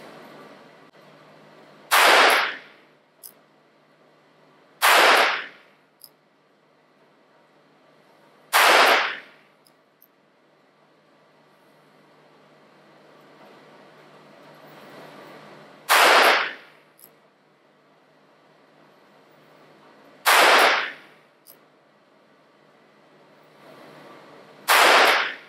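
Ruger LCR .22 revolver fired at target practice outdoors: six loud, sharp cracks spaced several seconds apart, each standing alone against quiet background with brief faint clicks between shots.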